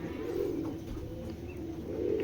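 A young male racing pigeon coos in low, continuous throaty murmurs, close and fairly quiet, with no voices over it.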